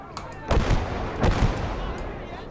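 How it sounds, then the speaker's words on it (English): Mines going off in a minefield in the wartime strategy game Legion of the Damned: two heavy, rumbling blasts about a second apart over a steady background din. "That sounds like mines going off."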